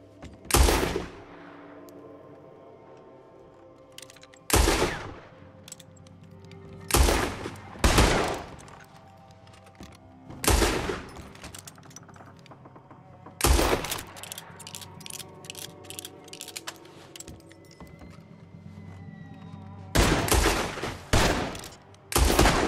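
Gunfight in Red Dead Redemption 2 during the battle of Shady Belle: sharp, loud rifle and pistol shots in uneven clusters and bursts, separated by short lulls with a low ambient bed.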